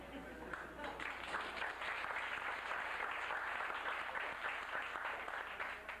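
Audience applause at an awards ceremony, a sustained, even roar of many people clapping in a large room, heard at a moderate distance with faint voices blended in.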